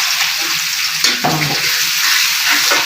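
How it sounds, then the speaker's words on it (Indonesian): Shallots and garlic sizzle steadily in hot oil in a pan, with a few louder scraping stirs partway through and a continuous frying hiss throughout. "Brambang bawangnya tak oseng dulu"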